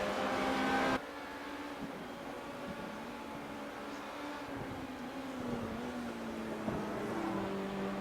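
Simulated race car engine lapping Silverstone in iRacing, a steady droning whine that holds and gradually shifts pitch, moderately loud, with no voices over it.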